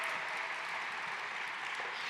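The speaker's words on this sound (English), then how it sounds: "Another round of applause for all the incredible performers here this morning." Steady, dense applause from a morning audience for performers at an annual community celebration, continuous and even throughout with no clear voices over it.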